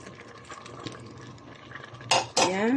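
A spoon stirs champorado, a chocolate rice porridge with milk, in a pot, giving soft scraping and light clinks that end in two sharp, loud metal clangs, with no talking.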